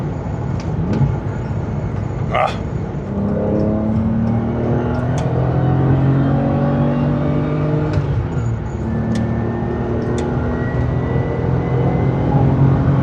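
A V12 BMW E31 850i accelerating on the road, its engine note climbing steadily as it builds power, loud and continuous throughout with no talk over it.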